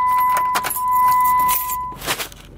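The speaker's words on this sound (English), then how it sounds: "So when I turn the car on" Car being started with keys, with jangling keys, a ignition chime tone and a brief engine turnover and catch, close and loud with no talk.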